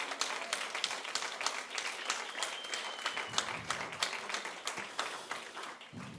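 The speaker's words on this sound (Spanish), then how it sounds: "Un aplauso al Señor." A church congregation claps for the Lord during a sermon, a dense run of hand claps with some sharper individual slaps standing out, moderately distant and fading near the end.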